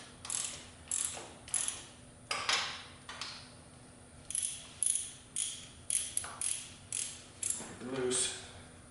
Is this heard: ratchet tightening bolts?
yes